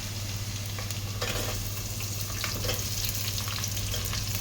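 Sliced onions and ginger fry in hot oil for a chicken curry with vegetables, a steady, dense close-up sizzle that crackles continuously with faint stirring, and no talking.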